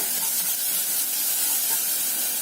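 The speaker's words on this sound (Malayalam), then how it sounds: "ഫ്രൈ ചെയ്ത ഇഡ്ലി കൂടെ ആഡ് ചെയ്ത് കൊടുക്കുക" Fried leftover idli pieces tossed into a hot pan for an idli kurkure tea-time snack, giving a steady, loud, even sizzle that holds without a break.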